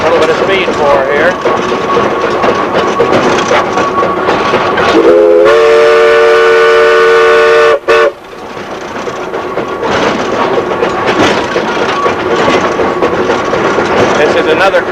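A steam locomotive works toward a half-mile 2 to 2.5% grade, its rumble and clatter steady and close, broken midway by a long multi-tone steam whistle blast, with a voice talking over parts.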